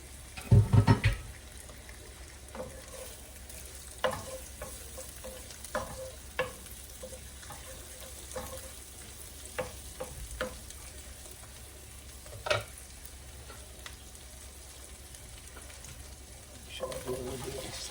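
Sweet peppers stir-fry in a pan in a low, soft sizzle, broken by scattered spatula scrapes and knocks, with a louder clatter at the start and end.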